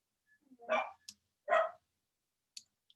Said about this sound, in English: If you can hear barking in the background, that's my dog